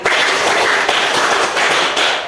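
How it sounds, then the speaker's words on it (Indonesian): A school class claps out a counted rhythm pattern together, producing continuous dense, loud clapping with faint pulsing accents throughout, close and without pauses. "Tepuk sekali, tepuk sekali, tepuk 2 kali, tepuk 2 kali, tepuk 4 kali, tepuk 3 kali, tepuk 5 kali 2 kali"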